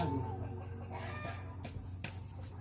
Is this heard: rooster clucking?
yes